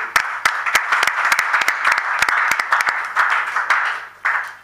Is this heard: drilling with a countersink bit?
no